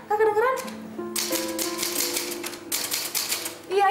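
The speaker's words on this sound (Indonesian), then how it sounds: "Mesin tik tua ini penyebabnya. Udah reot, suaranya berisik banget" An old, rickety manual typewriter clatters in rapid bursts of loud, close keystrikes, with a voice speaking over the start and end of the typing.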